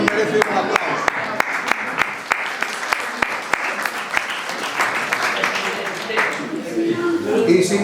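Audience applause at a Galician award ceremony for a trophy presentation, sustained clapping from a crowd lasting the whole stretch, with sharp individual claps standing out early and the applause swelling slightly toward the end.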